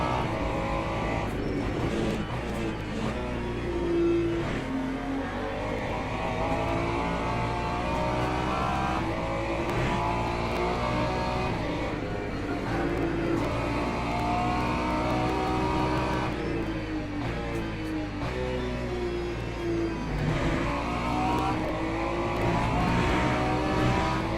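A Le Mans hypercar races in Le Mans Ultimate during an 8-hour event at Bahrain, its engine a continuous near roar with rising and falling revs and whirring, heard from inside another car.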